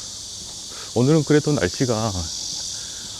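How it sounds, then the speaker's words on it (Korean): Cicadas chirp loudly outdoors, forming a continuous high buzzing drone throughout while a person talks in the foreground for part of the time. "매미가 좀 시끄럽게 울고 있고,"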